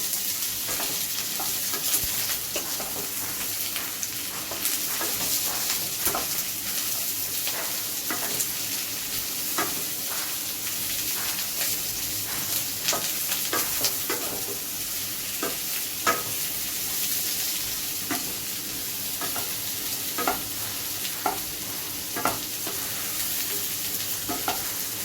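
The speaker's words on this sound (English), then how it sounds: "It's very important to make sure that the onions are sauteed and not raw," Onions and garlic sauté in a pan for masala sausages, making a continuous sizzle under frequent clicks and scrapes of stirring. The sound stays fairly close and even the whole way through, with no voices.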